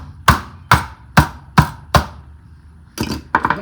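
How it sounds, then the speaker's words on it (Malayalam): Green chillies are crushed for a Kerala upperi stir-fry: five loud, evenly spaced thuds, then a pause and a quicker cluster of knocks, close and dry with no talking. "എനിക്ക് ഉപ്പേരിക്ക് മുളക് അരിഞ്ഞിടുന്നത് ഇഷ്ടമില്ല, ഇങ്ങനെ ചതയ്ക്കും."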